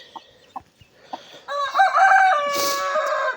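A rooster crows loudly and close, one long drawn-out cock-a-doodle-doo following a few soft scattered clucks and scuffles from a backyard hen setup.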